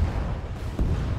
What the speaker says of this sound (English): Rocket hit.